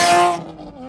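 A tuned Porsche Cayman GT4 screams past in a flyby, its loud high-revving engine note falling away quickly into a distant fading hum.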